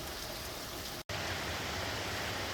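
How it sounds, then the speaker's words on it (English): Steady rain falls outdoors in a wild trekking setting, a dense even hiss that fills the whole clip with one brief dropout in the middle. "The rain slowed down to a fine mist now"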